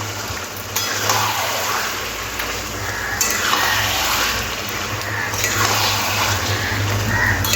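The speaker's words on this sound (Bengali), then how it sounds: "এবার চিকেনটা খুব ভালো করে কষতে হবে" Chicken is sautéed in a pan, a continuous sizzling and frying hiss with soft stirring movements and water-like bubbling, steady and close throughout.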